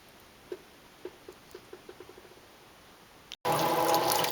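Water rushes loudly into a Maytag Centennial MVWC415 top-load washer as it refills for the rinse, the surge starting abruptly near the end after a run of soft, evenly spaced clicks from the machine.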